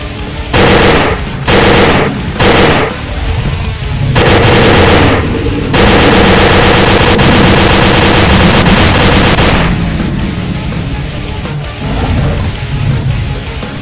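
A machine gun firing belted ammunition in a video game hammers out loud, sustained bursts of rapid gunfire, broken by short gaps and then continuing as a long unbroken stream.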